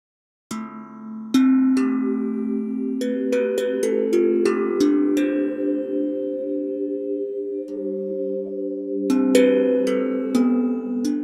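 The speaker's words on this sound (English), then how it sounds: "I like this pad and drum multi." A pad and drum multi patch from the Crypto Cipher tongue drum sample library plays struck tongue drum notes with bright, sharp attacks over a sustained, ringing synth pad, melodic and spaced, with no talk.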